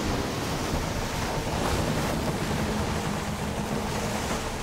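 Wind at sea in the pirate sailing game Skull and Bones, a constant loud roaring rush blended with ocean surf, steady and unbroken with no voices.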